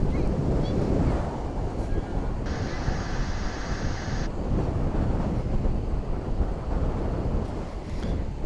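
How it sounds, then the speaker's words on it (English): Strong wind blowing steadily across a microphone outdoors at DFW International Airport, a loud, continuous rumbling buffet that runs through the whole stretch. "The wind is once again picking up."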